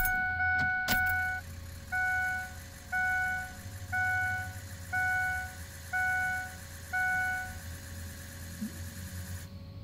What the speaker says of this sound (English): I'm going to go ahead and cycle the key so we can hear the pre-clatter